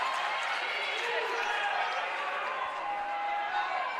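A crowd cheers and buzzes at a girls basketball game in a gym on senior night, a steady wash of voices under a commentator's talk, with a few whistle-like tones in the middle.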